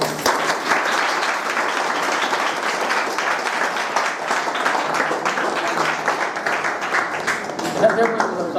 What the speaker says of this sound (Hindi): ताली बजेगी